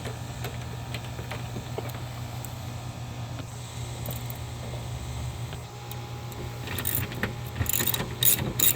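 A ratchet snugs up fasteners on the door of a 1997-2002 Saturn SL2, giving a steady run of close, fast mechanical clicking with a louder burst of ratcheting near the end.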